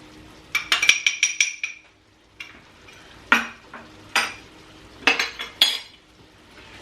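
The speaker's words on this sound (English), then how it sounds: "I'm just gently allowing that flour to mix in with the syrup, with the butter" A pan holding butter, syrup and flour scraped and stirred with a utensil, giving a run of quick metallic clinks and scrapes, then scattered sharper knocks and shuffles, close and fairly loud, with no talk.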